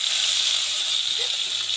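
Chopped tomato hitting hot oil in a pan for a vegetarian jackfruit dish, giving a steady, loud sizzle and hiss that holds evenly throughout with no voices.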